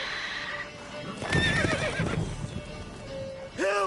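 Roach, the horse in The Witcher 3, gives a loud whinny over hoof clip-clops and game ambience, with a brief snort near the end.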